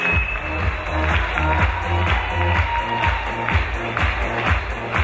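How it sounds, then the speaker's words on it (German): Rhythmic clapping from a crowd keeping time with loud music at a mountain-bike award ceremony, steady beats running throughout alongside the music. "Kurz einmal alle Hände nach oben und weiter klatschen"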